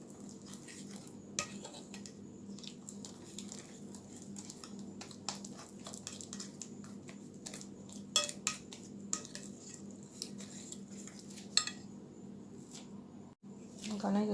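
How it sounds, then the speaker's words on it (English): Ripe banana fritter batter is mixed in a bowl, with soft, irregular clinks and scrapes of a utensil against the bowl that stay faint and close over a steady low background hum. "So you mix this in until there are no lumps."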